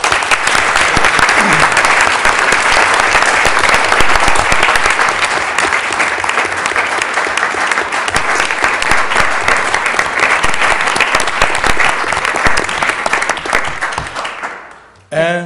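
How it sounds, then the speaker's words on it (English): A loud, dense round of applause from a school board meeting audience, clapping for accomplished students, holds steady for about fourteen seconds before fading out, and a voice begins speaking right at the end. "And a round of applause."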